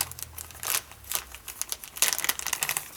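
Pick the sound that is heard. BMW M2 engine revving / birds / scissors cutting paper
scissors cutting paper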